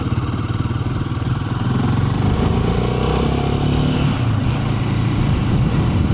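A motorcycle fitted with new hand guards, ridden with its engine droning loud and steady throughout, the pitch rising slightly as it gets under way, with wind rumble mixed in.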